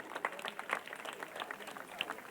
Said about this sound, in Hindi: तरुण जी के लिए तालियां तो बजेंगी।